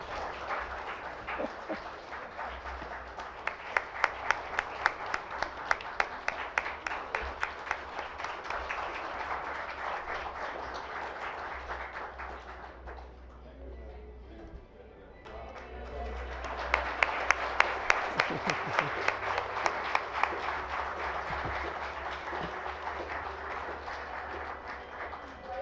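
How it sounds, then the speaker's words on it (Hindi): An oral health summit audience keeps up steady applause with rhythmic clapping, dipping briefly midway before swelling again, then easing off toward the end. "तालियों का सिलसिला रुकना नहीं चाहिए।"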